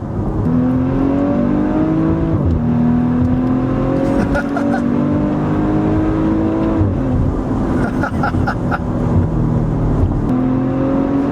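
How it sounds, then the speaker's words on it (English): Loud engine and exhaust roar from inside a 2017 Maserati Levante twin-turbo V6 SUV as it accelerates hard through several gears, each shift dropping the pitch before it climbs again. "That exhaust just sounds really good."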